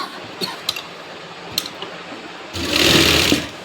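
An electric sewing machine stitching a Rajputi suit runs in a short, loud whirring burst near the end, after a few scattered light clicks and taps of fabric handling.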